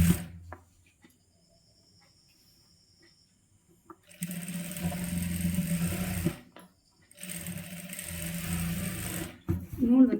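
A sewing machine stitching the hem of a churidar runs in two sustained whirring bursts, close and fairly loud, separated by a short pause, after a quiet stretch with soft handling noises and a brief voice at the end.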